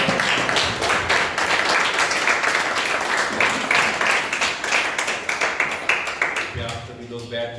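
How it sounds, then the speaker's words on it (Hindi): A church congregation claps and applauds together, a dense, steady wash of hand claps close by that tapers off near the end as a voice begins. "और एक बार फिर से तालियां परमेश्वर के लिए"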